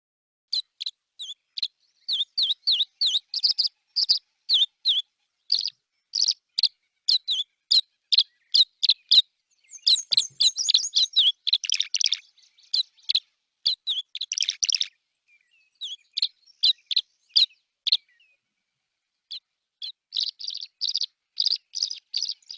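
Repeated bird calls from a species common in riparian areas that builds mud nests, given as a birding-by-ear quiz sample: bright, rapid chirps and twittering phrases in bursts with short gaps, fairly close, no voices.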